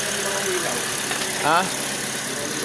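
A Toyota Vios with a dual VVT-i engine, started after sitting unused for a long time, runs with a steady idle rumble. A brief spoken interjection rises over it.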